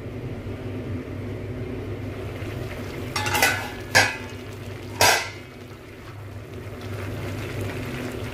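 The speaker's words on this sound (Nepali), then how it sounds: "यसलाई खुब भुट्नुपर्छ" Spiced goat meat fries in a pan for a Nepali bhutuwa, a low steady sizzle broken by three sharp scraping and clinking stirs in quick succession midway, with no talking.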